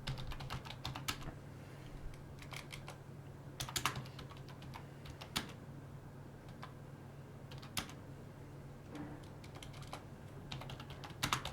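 Rapid, uneven clatter of keys on a computer keyboard during an online blitz chess session, close and fairly loud, with bursts of clicks scattered over a steady low room hum and no voices.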